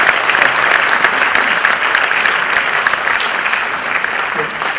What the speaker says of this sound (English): this lady deserves, from me at least, a huge round of applause